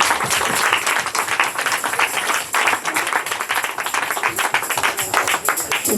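A church congregation at a fifth-anniversary service claps in a dense, steady round of applause that fills the space, loud and close throughout.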